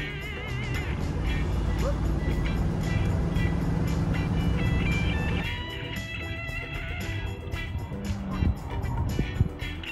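A 1968 Ford full-size muscle car with a 390 engine runs hard on a track, its steady loud engine drone filling the scene before easing into a lower, busier rumble with brief thumps.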